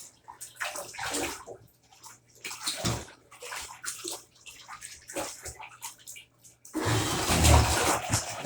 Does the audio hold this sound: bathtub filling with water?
yes